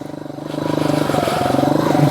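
A Skybike Liger 2 motorcycle, also sold as the Skymoto Matador 2, runs nearby with a loud, rhythmic pulsing engine note that swells slightly as it goes, with no talking.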